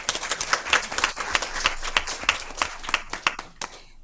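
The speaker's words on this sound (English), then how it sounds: "Let's give them a round of applause." A school board meeting audience gives a round of applause for early childhood center principals, with close, crisp clapping from a modest group that stays lively for about four seconds before tapering off.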